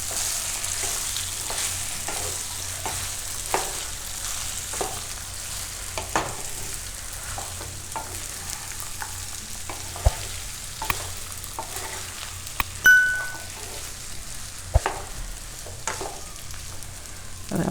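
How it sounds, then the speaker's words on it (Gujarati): Beet sabudana khichdi stirred in a pan over low heat, a steady sizzle with regular spoon scrapes and taps repeating throughout, close by with no talking. "તો ગેસ ધીમો કરશું અને આપણે મિક્સ કરી લઈશું."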